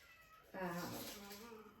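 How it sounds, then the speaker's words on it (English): A cat meows once indoors in a kitchen, a drawn-out, fairly faint call rising then trailing off over a quiet background. "my cat is meowing"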